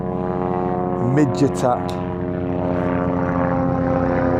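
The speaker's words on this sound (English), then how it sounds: "There's a helicopter coming this way." A helicopter approaches over open hill country, its steady droning rotor and engine roar loud and continuous throughout, with someone speaking briefly over it.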